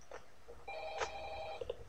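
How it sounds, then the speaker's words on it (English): An in-game phone rings in Five Nights at Freddy's 2, a steady electronic trill held for about a second, fairly faint and distant against low background hum, with a few soft clicks around it. "okay, just answer the phone call."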